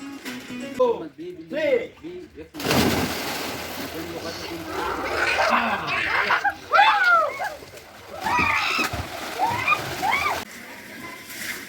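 Water splashing in a farmhouse swimming pool as children dive in searching for coins, bursts of sloshing and splashes under lively voices, shouts and talk throughout.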